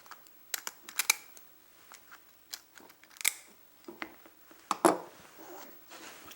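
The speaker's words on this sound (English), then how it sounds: "Or you can come back with a pair of scissors, which may be easier for a housewife, and just take and snip them off." Scissors snip the fins off a lobster in a series of sharp, close clicks and cuts, irregularly spaced and fairly quiet, with no talking.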